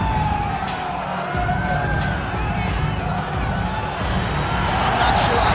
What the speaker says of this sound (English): I'm not sure I have ever heard a louder crowd in any arena in the world than this here Bell Center in Montreal, Quebec, Canada.